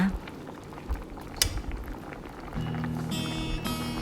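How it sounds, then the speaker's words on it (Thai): Low-fat tom kha soup with fish bubbling in a pot, a soft continuous boil with a few utensil clinks and a faint steady hum joining later, no talking. "จากนั้นเราก็จะปล่อยให้ มันเดือดไปเรื่อยๆ จนกว่าปลาจะสุกนะคะ"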